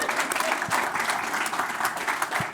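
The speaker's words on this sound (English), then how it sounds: "Y'all need to clap for us." Applause from an audience at a housing authority salon event in Atlanta, a steady dense patter of clapping hands that stays loud and even across the whole stretch.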